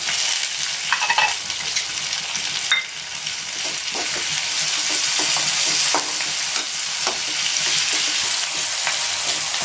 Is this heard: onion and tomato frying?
yes